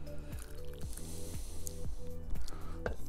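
Thick pea soup with potato and smoked ribs being ladled out of an Afghan kazan, giving repeated wet squishing glugs and drips in a steady rhythm, close up with no talk.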